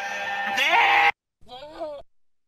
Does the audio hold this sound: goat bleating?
yes